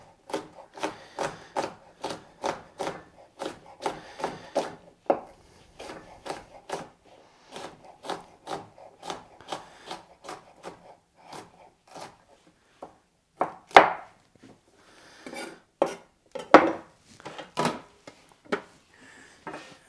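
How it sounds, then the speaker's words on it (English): Knife chopping food into small cubes on a cutting board during home meal prep, a quick even series of close crisp chops, pausing briefly before a few heavier, more scattered cuts. "Turn it 90 degrees and just cut them into nice little cubes."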